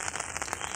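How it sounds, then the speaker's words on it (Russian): Steady rain pattering and crackling on a surface close by, a dense even hiss of drops with no voices over it. "Сегодня у нас дождь пошел."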